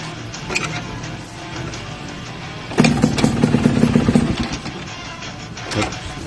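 A Yamaha RXT 135 motorcycle fitted with a full-wave, battery-powered electrical modification cranks into a brief, rough engine run of about a second and a half, then cuts out again. Quiet idle-free background surrounds the attempt, with no talking.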